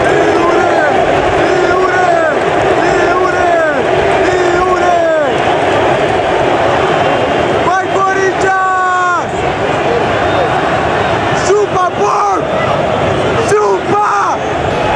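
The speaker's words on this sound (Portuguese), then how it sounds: "a torcida inteira gritando Yuri, Yuri" A stadium crowd of football fans at a Corinthians versus Palmeiras match chants a player's name after a Corinthians goal: loud, dense massed voices with rising and falling chant phrases, sustained throughout.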